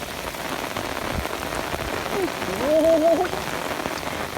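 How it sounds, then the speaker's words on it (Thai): Rain falls outdoors during a fishing trip with a bamboo rod, a steady hiss of drops on surfaces with a brief tonal squeak partway through. "ฝนตกฮะ"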